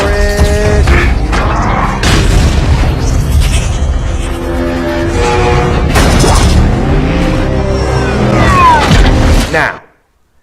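Several cars drive past fast in a busy, loud road scene, with booming and crash-like bangs, engine roar and rising whines, filling nearly the whole stretch before cutting off abruptly near the end.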